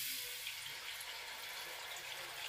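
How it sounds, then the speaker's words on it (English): Broth pours into a pan for chicken enchiladas, a steady quiet liquid splash that runs without a break for a couple of seconds, with no voices. "Now I'm going to add my broth"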